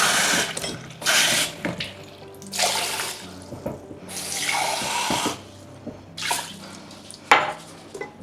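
Water runs from a kitchen tap in bursts, gushing loudly then easing off several times, with faint clinks of dishes and drips in between and no talking.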